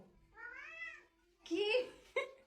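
A cat meows twice: a drawn-out rising-falling meow, then a louder, harsher meow followed by a short clipped one, close and clear with no talk.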